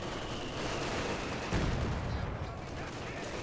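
Mortar shells and gunfire thump and crackle through a Company of Heroes battle, a dense continuous barrage with a heavier low boom around the middle, the fighting loud and close throughout.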